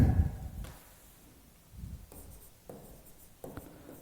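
Chalk or marker scratches and taps on a classroom board during a math lecture, short strokes scattered at irregular intervals, faint and close with no talk over them.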